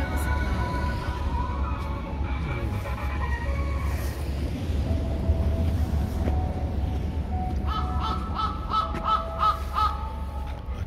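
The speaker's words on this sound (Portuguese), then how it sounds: "Aqui esses corvos aqui." Crows cawing on a snowy pedestrian street in Asahikawa, Hokkaido, heard over steady outdoor street noise with a low hum and occasional voices nearby.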